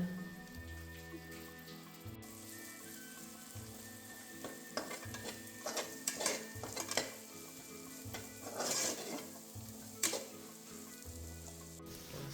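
Kashmiri chilli paste frying in oil for Ambur chicken biryani in a cooker, giving a soft continuous sizzle broken by several louder bursts of spatter and stirring.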